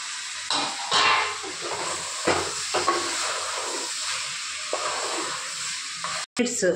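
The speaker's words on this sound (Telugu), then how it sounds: "చూడండి ఫ్రెండ్స్, నేను టమాటా కూడా వేస్తున్నాను." Tomatoes going into a frying mutton curry with spices, loud hissing sizzle and steam with stirring clatter, a brief break near the end; a voice talks faintly underneath.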